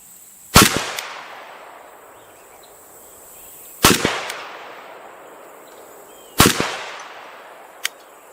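Three loud, sharp AK rifle shots fired at paper targets on an outdoor range, spaced a few seconds apart, each with a short reverberant tail and a faint click afterward.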